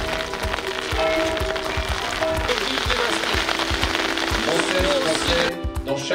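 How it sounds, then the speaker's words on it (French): Steady rain falls throughout an outdoor 11 November ceremony marking the 100th anniversary of the Great War, a continuous close patter with a low rhythmic thumping underneath. "c'est sous la pluie que la cérémonie du 11 novembre s'est déroulée cette année"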